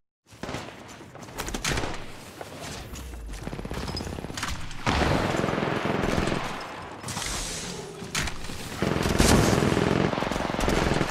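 Rapid automatic gunfire in a shooter video game, sustained loud bursts and rattling fusillades with heavy thuds, continuous and close throughout.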